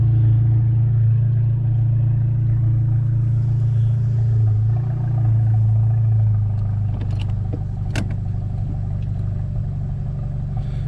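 A VW MK7 GTI fitted with a Mamba GTX3071R turbo drives with a steady low engine drone and road rumble from inside the car, easing slightly, with a few brief clicks and a sharp tick near the end.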